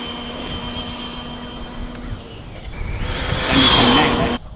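Traxxas 6S rally RC car at full power, a rising high-pitched motor whine surging loud near the end before cutting off abruptly, with a faint steady drone beneath.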